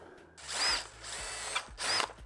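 A power drill bores a single hole through a plastic waterproof enclosure, revving in three loud close bursts with brief dips between, with no speech.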